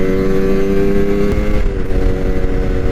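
A Kawasaki Ninja RR 150 motorcycle engine revs loud and close in top gear, a sustained buzzing two-stroke drone with a slight dip and recovery partway through.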